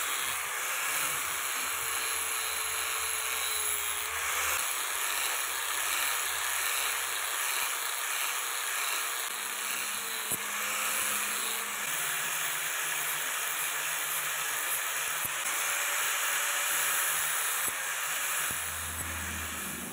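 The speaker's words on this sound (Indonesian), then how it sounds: "lanjut kita amplas lagi menggunakan amplas, gerenda amplas teman-teman." A sanding grinder smooths a knife blade cut from an old chainsaw bar, giving a continuous loud hissing whir that holds steady for about twenty seconds, with small shifts in pitch as the blade is worked and no talking.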